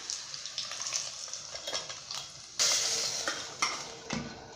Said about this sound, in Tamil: இப்போ தாளிப்பை கூட்டில் நான் சேர்த்துக்க போகிறேன்.